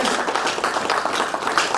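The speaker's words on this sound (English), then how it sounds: "Let's clap for them." Audience at an African strategic leaders meeting in Hamburg clapping together to honour widows and widowers: a brief, dense burst of applause from many hands, steady and fairly close.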